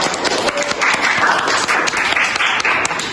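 An audience breaks into applause for Kak Sahla, a dense burst of many clapping hands that holds steady and fairly loud for a few seconds without a break.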